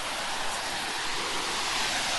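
Steady, loud broadband roar of a waterfall called Quality Falls, heard up close as an unbroken rushing wash of water with no talk over it.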